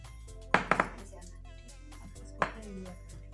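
An acrylic nail tip is snipped with a clipper, giving a quick cluster of sharp clicks followed by one more isolated click a moment later, close and crisp over a quiet background.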